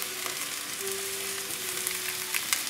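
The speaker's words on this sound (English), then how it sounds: "we'll just saute, like I said, the shallots, the broccoli," Quiet, steady frying sizzle of shallots, broccoli and mushrooms sautéing in a pan, with a faint hum and small crackling pops, heard alone.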